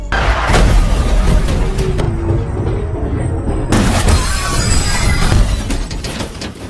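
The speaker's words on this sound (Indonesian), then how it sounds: "Alhasil tak lama lagi mobil akan meledak." An overturned car bursts into an explosion after a fuel leak in a film scene, making a loud, sustained roaring blast with crackling, shattering debris that fades only slightly over several seconds.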